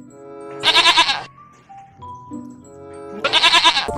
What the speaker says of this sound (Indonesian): Kambing loh teman-teman.